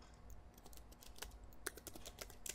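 Quiet, close keystrokes on a computer keyboard tap in an irregular run of light clicks as a headline is typed, with no other sound.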